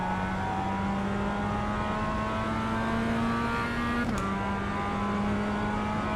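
A race car in iRacing holds a steady high engine drone, then dips sharply as it brakes and picks back up accelerating out of the corner, with no voice over it.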